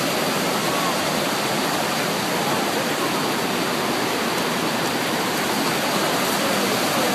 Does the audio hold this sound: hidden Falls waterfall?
yes